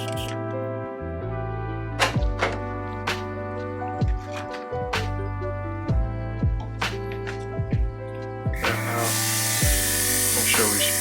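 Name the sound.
cordless airbrush spraying alcohol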